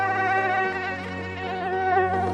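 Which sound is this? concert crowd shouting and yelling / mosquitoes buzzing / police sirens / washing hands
mosquitoes buzzing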